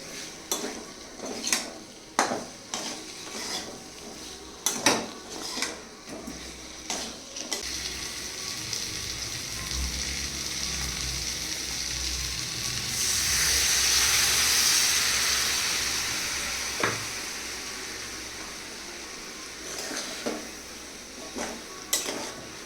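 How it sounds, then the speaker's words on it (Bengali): Chicken with black sesame sautéed in a hot pan gives a steady, close oil sizzle that swells in the middle, with the sharp clinks and scrapes of a spatula stirring against the metal at the start and end. "একটু কষিয়ে নিই।"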